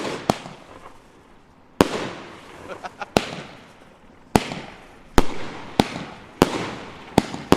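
Fireworks and firecrackers set off nearby at a birthday gathering, sharp loud bangs spaced a second or so apart, each trailing off into a crackling echo, repeated about seven times.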